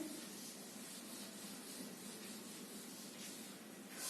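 A duster or eraser rubs writing off a board during a maths lesson, a faint continuous scratchy hiss with no speech.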